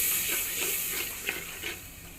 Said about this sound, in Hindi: असीं इहदे थोड़ा जिहा पानी ऐड करेंगे